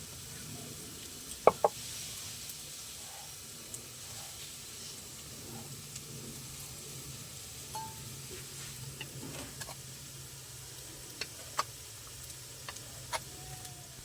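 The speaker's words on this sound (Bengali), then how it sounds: "পেঁয়াজটা একটু ভালো করে লাল লাল করে ভেজে নেবো আমি।" Onions fry in a pan with a steady low sizzle and hiss throughout, broken by a few sharp clicks and light taps of a utensil.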